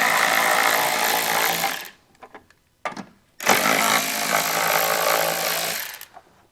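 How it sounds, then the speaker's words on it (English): A power tool fitted with an 8mm socket backs out taillight screws, whirring loudly in two long bursts separated by a short pause with a few brief clicks and clatters. "We'll just remove these 2 screws."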